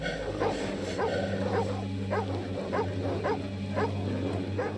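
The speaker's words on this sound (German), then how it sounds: "warum da immer so viele Hunde rumlaufen" Several dogs bark and yip in a steady, repeated rhythm over a continuous low droning hum, with a few whimpering tones mixed in, from a scene in a Resident Evil fan film.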